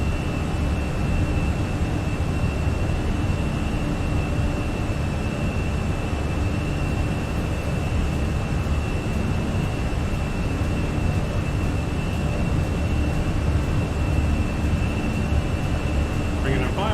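Airliner engines at climb power in Microsoft Flight Simulator make a steady, dense roar with a constant high whine running through it, unbroken for the whole stretch.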